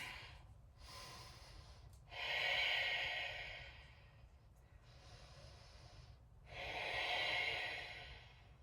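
Slow deep breathing during a yoga bow pose, with alternating soft and stronger airy inhales and exhales close to the microphone, steady and rhythmic, no speech.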